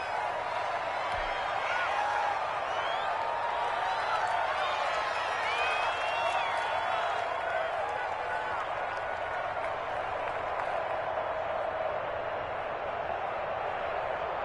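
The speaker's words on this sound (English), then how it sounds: "the crowd getting into it as we come up on a big 3rd down" Crowd noise building in an American football video game ahead of a big third down, a broad steady roar of cheering and clapping that continues throughout, with faint voices mixed in.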